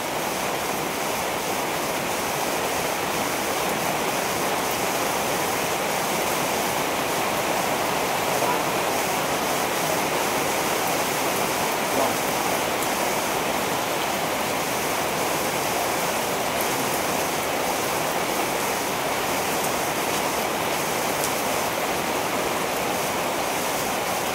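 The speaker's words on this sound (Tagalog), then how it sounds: "umuulan po kasi" Steady rain falls in the Philippine countryside, a dense, unbroken hiss that stays at the same level from start to finish, with faint voices now and then beneath it.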